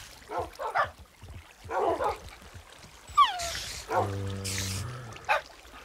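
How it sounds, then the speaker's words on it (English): Dogs in the Minecraft video game give a few short barks and yips, followed by a descending whimper and some faint game effects, all fairly quiet against a low background. "Oh my god, the dogs."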